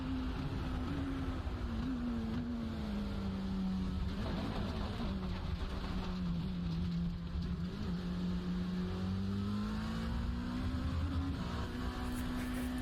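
Sim-racing engine roar from a Dallara prototype at Monza in iRacing, a steady loud drone that rises and falls in pitch through gear changes and corners, continuous for the whole stretch with no talking.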